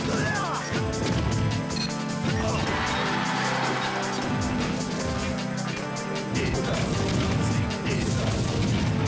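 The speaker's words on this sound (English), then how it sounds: "Strong Bad doing some down smashing." Ike's sword down smash attacks in a Project M 3.5 singles match at a Smash tournament, heavy crashing hits landing repeatedly amid loud crowd cheering and excited commentary.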